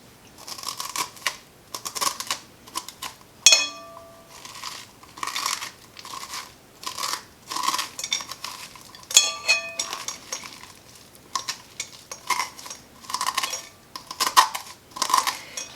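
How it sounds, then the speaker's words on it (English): Seeds and stringy pulp being scraped out of a halved fresh pumpkin, giving repeated wet scraping and crunching strokes in an irregular rhythm, close up, with a couple of sharp clinks of the utensil. "we're going to scoop out the seeds"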